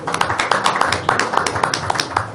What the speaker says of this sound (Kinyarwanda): murikomera amashyi menshi kugira ngo dukangure neza